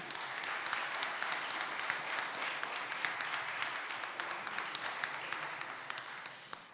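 Steady applause from an audience at a French-language meteorology associations' competition finale, dense clapping filling the whole stretch at moderate, even loudness and tapering slightly at the end.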